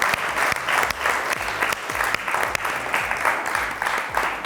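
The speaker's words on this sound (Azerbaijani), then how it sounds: "Ürəkdən bir alqışlayaq sənətkarlarımızı." Audience applause for performing artists at a stage show, a dense, steady clapping that carries on for several seconds without a break, loud and close.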